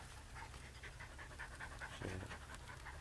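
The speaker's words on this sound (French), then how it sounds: "Candy, C'est la chienne de Marouina." A female dog pants steadily in quick, rhythmic breaths close by, over a low background hum, with a short whine near the middle.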